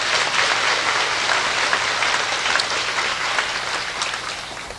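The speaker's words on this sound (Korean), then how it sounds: "박수로 감사의 표시를 해주시기 바랍니다." Sustained applause from a crowd of about 1,500 at a church service, dense steady clapping filling the whole stretch and tapering slightly toward the end.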